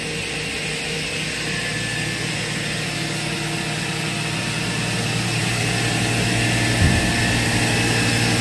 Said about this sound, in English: You can see here the spindle sounds good.